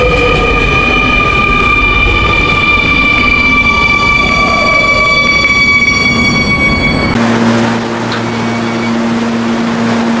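A New York subway 7 train runs with a loud, close rumble and high whining tones, then the pitch shifts to a lower steady hum as it changes speed.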